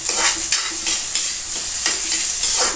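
Ingredients for sinigang, a Filipino sour soup, sautéing in a pot in a small home kitchen: a loud, steady sizzle with several sharp clinks and scrapes of stirring, no talk.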